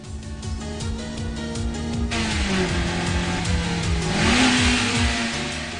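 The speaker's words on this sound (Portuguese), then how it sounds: "O ronco do motor do seu 86 soa como se fosse um grito de fúria." A Toyota 86 engine in an Initial D anime race revs hard and loud, its pitch climbing, dipping briefly, then rising again through gear changes, close and continuous with no talking.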